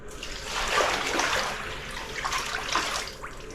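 Water pours onto a newly tiled shower floor, a close, swelling splash and rush that rises and falls in two surges with no one speaking.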